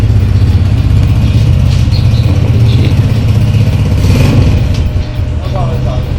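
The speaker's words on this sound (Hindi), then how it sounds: "ये हो गया, ये बाइक का सीन है" A motorcycle engine rumbles continuously on a ride through Azad Kashmir, loud and close with steady revving and wind noise, while voices speak over it.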